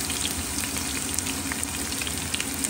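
Onion and ginger sauté in a pan while being stirred for a shrimp green curry, giving a steady, close sizzle with light stirring scrapes throughout and no talking.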